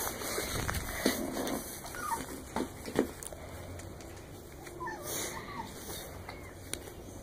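A puppy whimpers softly alongside an adult dog during their first meeting, giving faint intermittent whines and patters over a steady background hum, with no speech.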